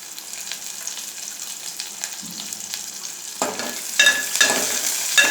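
Onion, tomato and curry leaves sizzle in hot oil for a Rayalaseema ulava charu tempering: a soft steady hiss swells into louder bursts of spattering and stirring near the end. No one talks.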